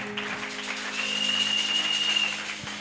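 A church congregation applauds, a soft, steady patter of many hands that swells in the middle and then fades, with a faint tone held above it.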